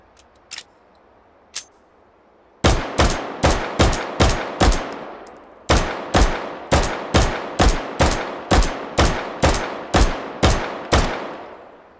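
Gunfire in the H3VR shooting game: two faint early clicks, then a loud, close string of evenly spaced single shots, a brief pause and a second string, each blast with a short decaying tail. Eighteen rounds in all, with no talk.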